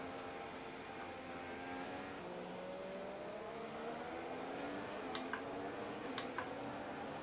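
Racing-car engine from the F1 2016 video game, a Sauber running behind the safety car at Monaco, holds a steady, moderate drone throughout, with a few sharp clicks near the end.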